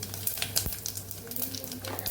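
Mustard seeds, cumin, asafoetida and dried chilies sizzle in hot oil, a brief close crackling hiss with small pops and a stirring scrape, no speech.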